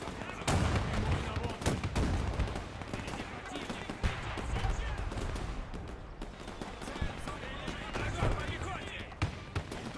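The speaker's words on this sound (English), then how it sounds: "Artillery, when it fires at longer range, can kind of have a plunging fire effect." Artillery guns firing in the Men of War II campaign, several sharp booming shots at irregular intervals over a dense battle din, with someone talking throughout.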